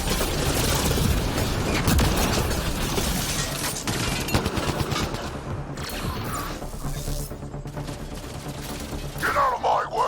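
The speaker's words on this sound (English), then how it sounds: "Shooting as fast as I can!" Rapid gunfire and heavy weapon bursts rattle through a combat scene in the Mass Effect Andromeda video game, dense and continuous amid mechanical clatter and some shouting voices.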